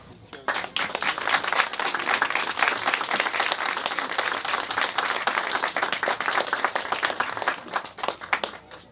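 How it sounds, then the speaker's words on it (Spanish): An audience at a book presentation breaks into strong applause, dense clapping swelling after a quiet start and holding steady before tapering near the end. "les damos un fuerte aplauso"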